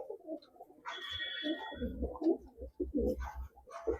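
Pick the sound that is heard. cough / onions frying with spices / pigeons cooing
pigeons cooing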